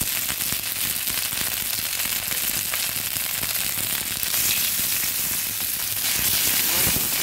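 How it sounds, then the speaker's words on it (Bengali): Black mustard seeds fry in hot oil with a steady, bright sizzle and scattered pops that grow a little more intense toward the end, heard up close with no talking. "কালো সর্ষেটা যখন কিছুটা ভাজা হয়ে আসবে তখন আমি দিয়ে দেবো আদা পেস্ট"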